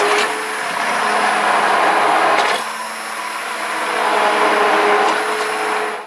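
An electric stick blender whirs steadily through goat's milk soap batter with oils just added, running in two continuous bursts separated by a brief pause.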